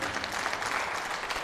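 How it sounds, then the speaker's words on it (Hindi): A church audience claps in a short burst of applause, a brief, fairly loud patter of many hands with faint voices mixed in. "ताली देंगे कि नहीं यीशु के लिए?"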